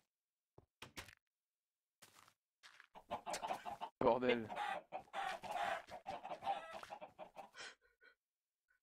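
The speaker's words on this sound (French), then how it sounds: "je me fais agresser par des poules là." Chickens in the video game Survivalcraft cluck and squawk in close, irregular bursts that grow busier toward the middle, with a man's exclamations mixed in among them.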